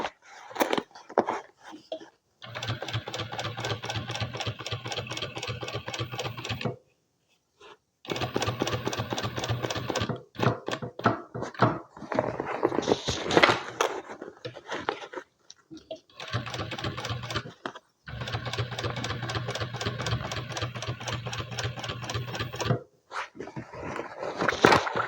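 A sewing machine stitches through several layers of a bag reinforced with interfacing, running in long steady bursts separated by short pauses, close and clear, with a few handling knocks between runs.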